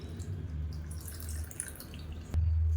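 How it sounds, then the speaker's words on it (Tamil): Water trickles and splashes into a kitchen mixer-grinder jar to rinse out chutney residue, a light dripping pour that swells into a steadier, louder flow near the end. "மிக்சியை அலசிட்டு தண்ணி சேர்த்துக்கலாம்"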